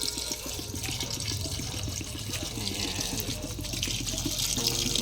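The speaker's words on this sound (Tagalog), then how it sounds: "dagdagan po natin ng tubig" Water pours steadily into a pot of sinigang being cooked, a continuous splashing fill with no talk over it.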